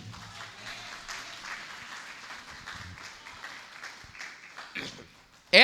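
A church congregation at a home worship service applauds in a sustained, moderately loud round of clapping mixed with voices, ending in a sudden loud burst.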